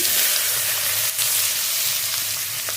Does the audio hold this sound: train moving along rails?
no